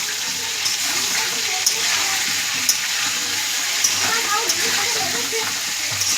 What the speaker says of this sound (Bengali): দেখুন আলু ভাজা হচ্ছে, লবণ দেওয়া হলো